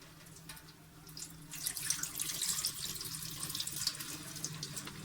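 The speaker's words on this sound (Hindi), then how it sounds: "अब हम इसका पानी फेंक देंगे।" Water pours out of an electric kettle after cleaning, a steady splashing, gurgling stream that rises after a quiet start and runs on close by.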